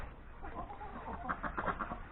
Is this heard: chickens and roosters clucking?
yes